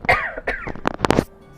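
Harsh, raspy coughing in the role-playing video game Pathfinder: Wrath of the Righteous, a voiced fit of several throaty bursts of rising intensity, close and loud, then trailing off into quiet.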